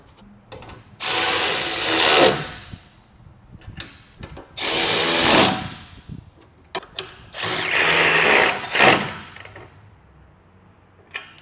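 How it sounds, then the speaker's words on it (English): Ladder bolts on a Mercedes Sprinter side ladder are driven tight with a 9/16 socket, heard as three loud, close whirring bursts of a couple of seconds each, separated by quieter clicks and handling noise. "We will go ahead and tighten these down all the way. with a 9/16 wrench and socket."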